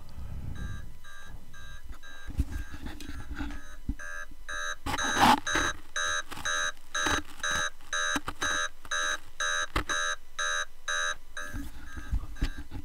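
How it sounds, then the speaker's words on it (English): An electronic alarm clock sound from RedKey USB software version 4.36 beeps in rapid, evenly spaced bursts, repeating steadily and loudly after a few scattered clicks and a brief rustle. "That more alarm clock sound."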